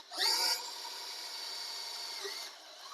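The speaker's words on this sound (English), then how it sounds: "So let's try drilling a hole." A power drill bores a 7/32 hole during work on an MGB rearview mirror, a high-pitched whine that starts loud and then settles into a steady, quieter grind before stopping, with no talking.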